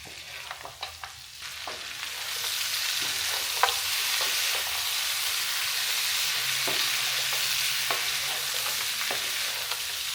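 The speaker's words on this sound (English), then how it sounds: "Add this into the pan and mix well. Let it cook for a few minutes so everything combines properly." Lamb curry sizzles steadily in a pan as hoisin sauce is stirred through, a bright continuous frying hiss with light scraping taps of the utensil, no voices.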